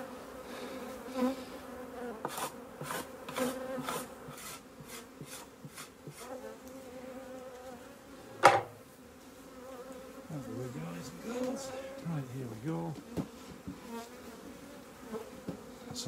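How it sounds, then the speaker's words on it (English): Bees drone steadily around a hive, a dense close-up buzz with occasional sharp knocks and a loud thump midway, persisting throughout. "Pouring with bees in here."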